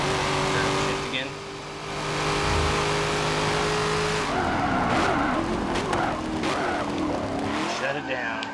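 Race car in Forza Motorsport 7 revs hard with its engine note rising and falling through gear shifts, then tires squeal and skid loudly through a corner under throttle; a voice talks over parts.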